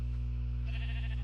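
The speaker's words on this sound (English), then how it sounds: "I think I hear a cow." A Minecraft cow gives a single sustained, low, droning moo, clear and alone with no talk over it.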